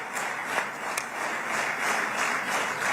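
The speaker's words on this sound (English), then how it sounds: "The way they clap in unison is pretty disturbing too" An audience at a signing event for a Gaza deal in Egypt claps in steady unison, a dense crowd applause with sharp rhythmic peaks running throughout, close and fairly loud, with no talking.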